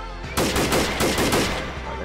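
A warning shot fired in Arma 3, a quick burst of several sharp, loud cracks in rapid succession after a brief quiet lead-in, with no talk.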